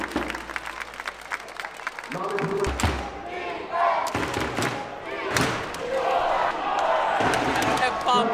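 A crowd at an American football game in Warsaw, Poland cheers and claps, with thuds and a steady loud roar building through the clip while a nearby voice talks over it.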